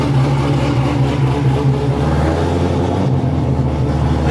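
A C6 Corvette's engine runs steadily during a test drive, giving a loud, close, low rumbling drone with a slight dip in intensity partway through, and no talking.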